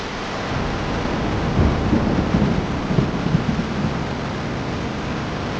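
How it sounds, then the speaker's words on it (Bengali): Heavy rain and a thunderstorm sweeping in over a wide river during a Kalbaishakhi storm, a dense steady roar of rainfall and wind with low rumbling swells, loud and continuous with no voices. "আকাশ দিয়ে বৃষ্টিও পড়ে এবং বৃষ্টি আস্তে আস্তে আমাদের দিকে আগাই আসতে"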